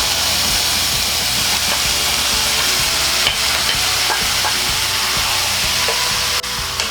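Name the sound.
pork stirred and sautéed with onion and garlic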